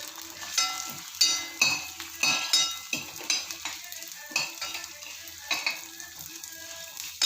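Food frying in a pan for Navaratri prasadam: a continuous crackling sizzle with repeated sharp spatula scrapes and stirs in an irregular rhythm, close and fairly loud, no talk.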